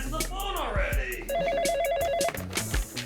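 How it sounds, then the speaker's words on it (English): Telephone ringing with a warbling electronic trill that repeats in a steady pattern, loud and near, with voices and other noise around it. "Come on, answer the phone already."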